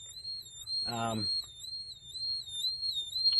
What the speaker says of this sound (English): I'm going to try to turn the alarm off